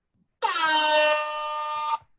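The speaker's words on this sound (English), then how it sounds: "Just get my air horn ready." A single loud air horn blast, sustained and blaring for about a second and a half, starting abruptly and cutting off cleanly against near silence.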